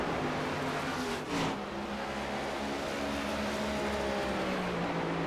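A race car engine roars steadily around Darlington Raceway in a racing game, with a brief whooshing pass as a car goes by, and the drone continues throughout.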